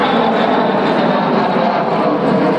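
An Avro Vulcan XH558 bomber roars past at the East Fortune Airshow, a loud, steady broadband jet rumble that fills the whole stretch without letting up.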